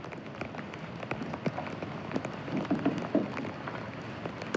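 Persistent rain showers fall steadily, a dense wash of pattering drops on surfaces with scattered sharper splashes, fairly close and continuous with no voices.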